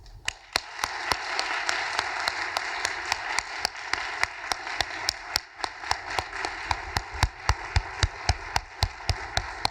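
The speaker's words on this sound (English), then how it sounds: "please join me in a round of applause for all of our new initiates" An audience at a 2017 Phi Beta Kappa convocation applauds new initiates, a sustained wash of crowd clapping with a steady run of sharp, close claps standing out throughout.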